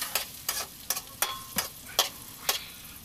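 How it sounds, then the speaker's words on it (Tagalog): Onion sautéing in a pan for ginataang puso ng saging (banana heart in coconut milk), with a steady run of about seven scraping stirring strokes over a soft sizzle, close and clear, with no talking. "Magigisa tayo ng sibuyas."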